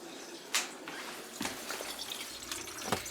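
Water released from a kitchen sink drains down through a newly installed garbage disposal during a leak test, a soft steady wash of flowing water with a few faint clunks and splashes.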